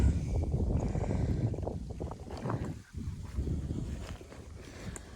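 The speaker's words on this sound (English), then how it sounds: "the wind is blowing" Wind blowing at Pine Island State Park in South Carolina, a loud, steady low rumble buffeting the microphone, with a brief drop in the middle before it surges back.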